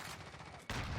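Loud, dense gunfire in the video game Call of Duty Modern Warfare: a rapid burst of shots that briefly drops and then surges back even harder.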